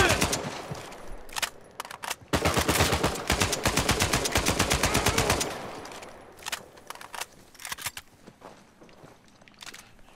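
AK-47 fire in the video game Uncharted 4: A Thief's End, with a long rapid automatic burst of closely spaced loud shots, scattered single shots before and after, and quieter shuffling between.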